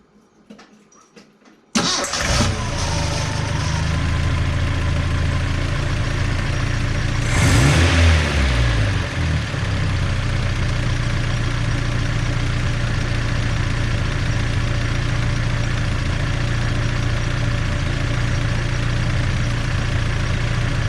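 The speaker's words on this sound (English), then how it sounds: "it is time to start this thing up and see what it sounds like" Datsun 510 engine after a valve adjustment cranks and fires up, then settles into a steady, loud idle with a brief rev early on, close by with no talking.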